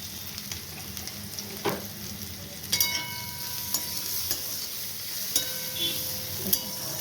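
Cauliflower stalks fry in a pan on a gas stove with a pinch of sugar, giving a steady soft sizzle broken by a few clinks of stirring.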